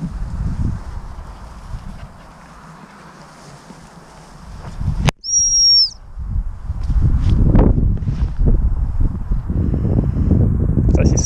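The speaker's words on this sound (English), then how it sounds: "Two turns of the whistle and I'm just walking the other way." A dog training whistle gives one sharp, loud, high blast in open outdoor wind, with rustling and footsteps around it.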